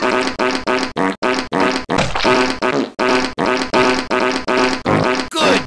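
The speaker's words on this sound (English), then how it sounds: "That's something that really makes you fart." A loud, sputtering fart sound effect from the 1997 Grossology CD-ROM game for Windows 3.1 repeats in rapid, rhythmic bursts with short gaps between them.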